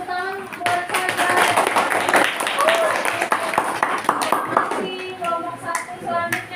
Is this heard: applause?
yes